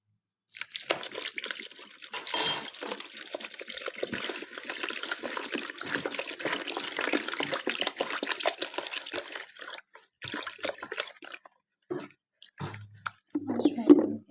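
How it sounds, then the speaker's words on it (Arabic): Water is poured and stirred into sugar and salt to make brine for cabbage pickles, giving a steady splashing, swirling liquid sound with a few drips and pauses, heard close up while a person talks. "وبعدين معايا لتر ميه، هنزله بقى واقلبهم كده كويس لحد ما السكر والملح بتاعي يدوب"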